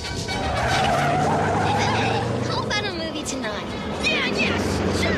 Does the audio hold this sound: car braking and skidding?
yes